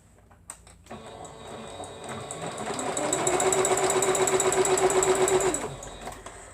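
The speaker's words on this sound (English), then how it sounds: "Let's go sew it down." A sewing machine stitches down quilt pieces for a beginner's quilt, running in one steady, loud burst of rapid rhythmic needle thumps after a few soft handling knocks, then stopping.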